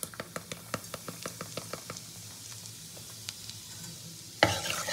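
Whole spices, a pinch of sugar and Kashmiri chili being stirred in hot oil for a mutton curry, a spoon tapping the pan in quick regular strokes over a faint sizzle, then a sudden louder hiss of frying near the end.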